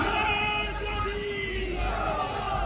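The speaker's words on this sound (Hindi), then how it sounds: "एक बार जोरदार ताली से स्वागत करें" A crowd at a political rally in Bastar cheering and shouting, a dense, steady roar of many voices that holds at the same level throughout.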